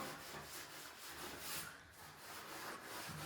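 A cloth scrubs and wipes a surface with quiet, continuous rubbing strokes that swell and fade in an even rhythm, close but faint.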